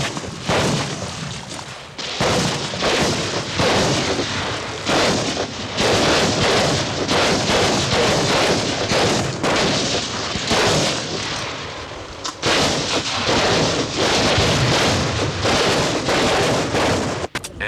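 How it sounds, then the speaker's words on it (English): Live-round gunfire and artillery crash out during military training in Angola, a dense run of loud, rapid shots and booms that keeps going with few short gaps and no voices. "the bullets are still flying. This is only training, but the ammunition is live."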